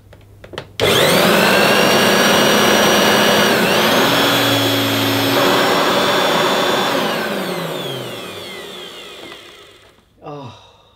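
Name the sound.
upright vacuum cleaner motor running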